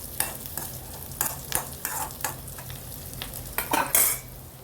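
Green chillies and roasted gram sautéing in a pan for coconut chutney, with repeated scraping and stirring strokes of a spoon against the pan over a faint steady sizzle, close and moderately loud, no voices.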